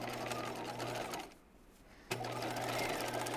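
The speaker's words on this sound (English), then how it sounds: "I'm going to put this over the free arm like this, and I'm going to be understitching" A sewing machine understitching fabric layers held over the free arm for a raglan top runs in a steady close whir, stops for about a second, then starts again at full speed.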